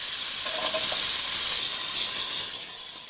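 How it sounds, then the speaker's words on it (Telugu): Potato pieces frying in oil in a pan for chana biryani, a steady close sizzle with a continuous bright hiss and faint stirring scrapes, no voices. "బంగాళదుంప ముక్కలు కూడా వేపించుకుందామండి."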